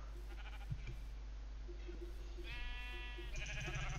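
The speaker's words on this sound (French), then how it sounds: "Il y a du mouton." Sheep bleating in Minecraft, a short wavering bleat standing out over a constant low hum and faint game sounds.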